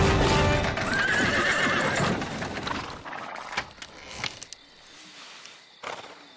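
Horse hooves clip-clop loudly up close, paired with a clear neigh as a carriage sets off. The sound is dense at first, then thins into a few separate hoof strikes and thuds.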